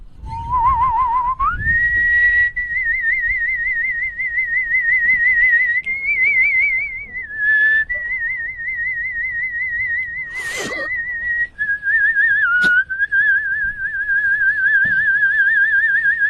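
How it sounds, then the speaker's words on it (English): A man whistles a tune on a radio show: loud, close, sustained notes with a quick wavering vibrato that step between pitches, with brief clicks and noises in the background. "He's whistling in already."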